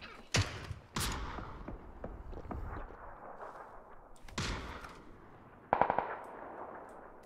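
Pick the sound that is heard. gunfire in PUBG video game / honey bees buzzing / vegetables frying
gunfire in PUBG video game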